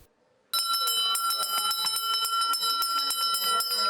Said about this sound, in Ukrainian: Цього року Перший шкільний дзвоник лунає у порожніх класах